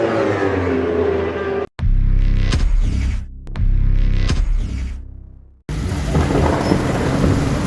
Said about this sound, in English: massive hailstorm out of nowhere just an hour before the race